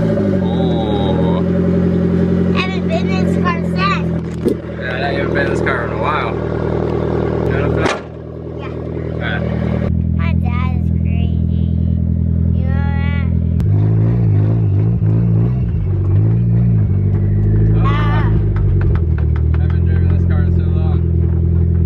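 A drift car's engine idles and revs, with stepped rumbling tones shifting through gears, while people talk excitedly over it throughout.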